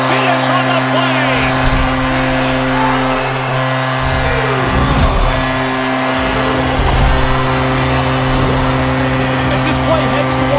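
A hockey goal horn blares in the video game NHL 23, a loud, steady, sustained tone that holds through the whole stretch over arena crowd noise, with a commentator's voice underneath.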